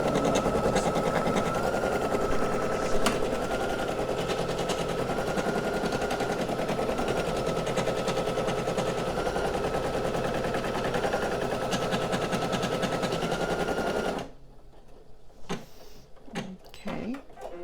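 An embroidery machine stitching a design runs loud with a fast, steady mechanical rattle of needle strokes and a constant motor hum, then stops abruptly, leaving a few quiet clicks and handling sounds.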